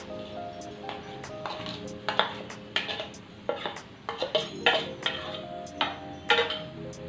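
Ground chili being stirred into garlic and ginger in a pan for homemade Schezwan chutney: a spoon scrapes and taps against the pan in irregular clicks and knocks over a faint steady sizzle, close by and with no talk.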